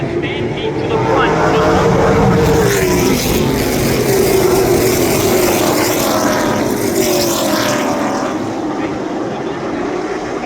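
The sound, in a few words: race cars racing on a speedway track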